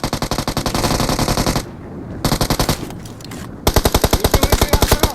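Automatic gunfire in the mobile battle game PUBG Mobile comes in rapid, loud bursts, one long burst, a brief pause, short rattles, then a final heavier burst, with no talk.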